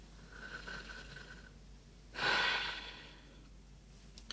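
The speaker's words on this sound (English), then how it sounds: "And closing it with another nice deep breath." A single deep breath, a soft inhale followed by a long, breathy exhale, taken close and alone in a quiet room at the end of a calm tapping session.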